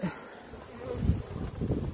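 Honeybees buzz softly and steadily at the hive during an early-spring inspection, a faint swarming hum close by with a few louder swells.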